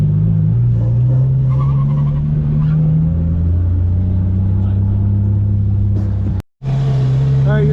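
An Infiniti G35 lapping a track at night, its engine droning loud and close with pitch rising and falling through gear changes, a brief dropout near the end, and voices over the engine.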